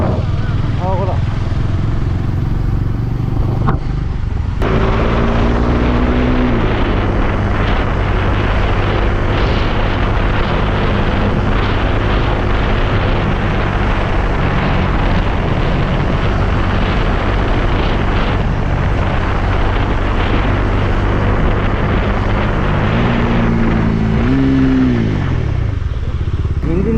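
A Bajaj Dominar and a Royal Enfield Thunderbird ride at speed in third gear, a loud continuous engine drone with wind rush and rising and falling revs near the start and end, under occasional talk.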